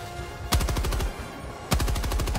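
Sustained machine gun fire in the shooter game Helldivers 2: two loud bursts of rapid, evenly spaced shots, each starting with a sharp heavy crack and rattling on steadily, close and dominant.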